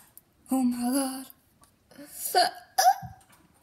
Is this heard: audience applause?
no